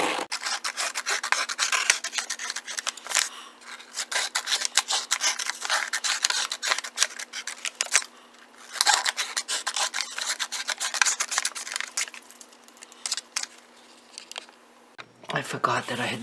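Repeated dry rasping snips and rubbing as bead-making craft material is cut by hand, steady close-up scraping strokes with brief pauses, a low constant hum underneath and no speech.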